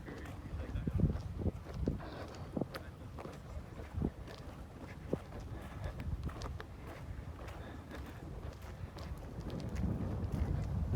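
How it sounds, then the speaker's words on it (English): Wind gusts at a jetty on the Isle of Iona, buffeting the microphone with low, uneven rumbles and thumps that rise and fall, growing stronger toward the end. "The sound of the wind."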